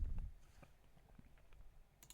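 Soft, quick mouse and keyboard clicks from a computer during a wrestling management game, faint and scattered over a quiet background, with a brief burst at the end.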